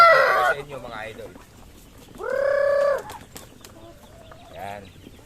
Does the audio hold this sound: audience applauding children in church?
no